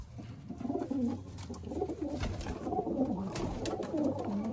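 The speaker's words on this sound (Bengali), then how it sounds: "পায়রাগুলো সব দেখুন আপনারা।" Several Madras pigeons in a loft coo repeatedly, close by, in overlapping low throaty phrases that rise and fall over a few seconds with no voices.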